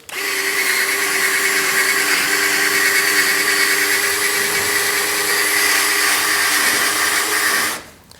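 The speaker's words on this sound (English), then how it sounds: "I've got a 150 grit scuff pad right here. I happen to have it on the drill" A power drill whirs at a steady high pitch, spinning a 150-grit scuff pad against body filler on a GTO for several seconds before winding down abruptly.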